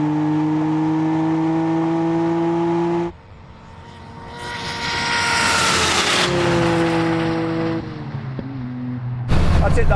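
A Toyota Supra and a Dodge Charger drag race, engines droning with steady harmonic tones, then a sharp switch to a roaring, rising surge of acceleration and a final loud burst.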